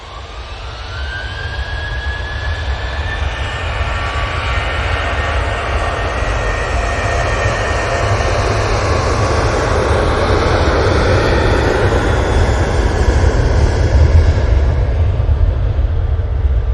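A Ryanair airliner passes at Manchester Airport with a continuous loud jet roar that builds gradually toward the end and carries a faint whine through its length. No voices are heard.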